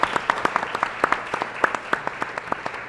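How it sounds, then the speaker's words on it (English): An audience at a county executive candidates forum held at a food center gives a short round of applause, dense clapping close by and fairly loud for a few seconds. "So let's give Hope a round of applause"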